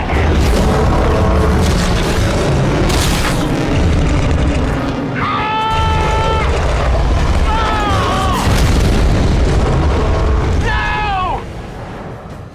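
Sci-fi movie weapon payload fired at a creature, with heavy continuous booming explosions and rumble filling the scene, under a dense action soundtrack with tonal sweeps.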